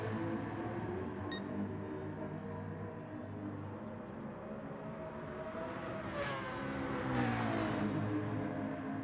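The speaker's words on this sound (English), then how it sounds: "He's revving it all the way too." A McLaren race car engine revs hard in a racing video game, a continuous buzzing drone that rises in pitch twice near the end, with no commentary over it.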